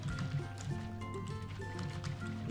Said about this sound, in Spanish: Con cuidado, que no queremos poner agua encima del bicho.